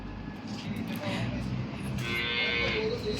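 A buffalo lows deeply amid steady background noise, with a person talking nearby.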